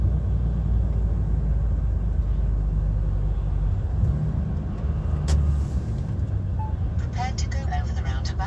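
A continuous low engine rumble from inside a truck cab as it crawls through heavy road traffic, with steady wind and road noise, a brief sharp hiss partway through, and someone talking over it.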